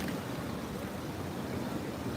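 Ocean waves wash steadily onto a Big Island beach in Hawaii, a continuous close rushing surf with breezy wind noise and no distinct breaks, heard alone without talking.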